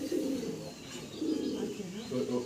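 Murshidabadi Giribaz and chocolate Dum pigeons coo close by in a low, throaty, repeating warble that rises and falls across the short stretch.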